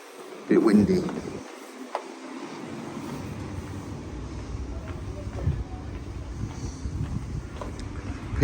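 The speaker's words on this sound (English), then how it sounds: "Bit windy." Wind buffets the microphone in a steady rushing roar in St Peter Port, Guernsey, with gusty thumps and a person speaking briefly near the start.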